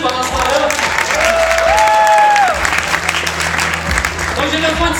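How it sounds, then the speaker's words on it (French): A college show audience applauds steadily for performers, the dense clapping filling the whole stretch while a voice talks and sings over it near the middle. "On peut les applaudir pendant ce temps-là."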